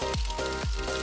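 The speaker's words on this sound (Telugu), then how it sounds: "ఒక ప్యాన్లో కొంచెం ఆయిల్, ఒక 6-7 టేబుల్ స్పూన్ల ఆయిల్ అండి వేసి, ఇప్పుడు మనం గిలకొట్టుకున్న ఎగ్ దాంట్లో ఈ ఎగ్ పీసెస్ నుంచి వేయించుకోవాలి" Egg pieces fry in six to seven tablespoons of hot oil in a pan for an Afghani anda tikka masala. The close sizzle is steady and continuous, with soft recurring swells and no talking.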